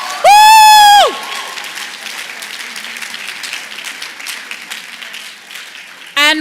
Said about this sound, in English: can we get one more round of applause for the dancers, everybody?